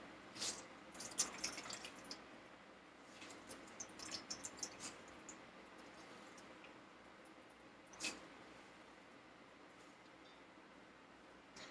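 Faint, sparse drips of water squeezed from grated carrots, with small wet squishing sounds scattered irregularly and quiet pauses between them.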